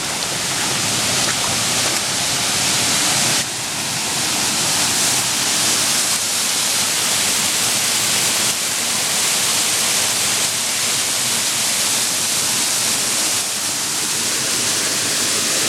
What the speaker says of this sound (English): We've made it to the waterfall.